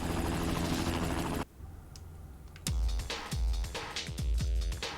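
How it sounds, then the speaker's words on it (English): Helicopter in Spider-Man 2 game, a loud rotor drone that cuts out abruptly, then returns with heavy thumping impacts and bursts. "He just happens to have a helicopter now for some reason."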